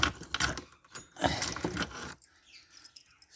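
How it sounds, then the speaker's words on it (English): A set of Allen keys jangles and clinks in a busy metallic rattle for about two seconds, close up, then gives way to a few faint clicks and quiet. "Set of Allen keys that the kids got me for me Father's Day present"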